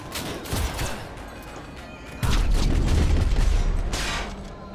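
Bursts of rapid gunfire crackle and boom, a heavier volley erupting midway and lingering, with no talking over it, in the video game Cyberpunk 2077.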